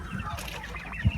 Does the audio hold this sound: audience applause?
no